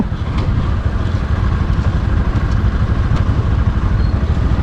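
An off-road vehicle from Maharashtra, heard on a Western Ghats road trip in Goa, gives a loud, steady, rumbling engine drone that stays close and constant throughout with no talk over it.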